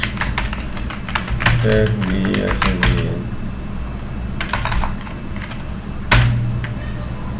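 Typing on a computer keyboard at a desk: rapid, uneven clacks in clusters with brief pauses and a louder final key press, with a short spoken word in the middle.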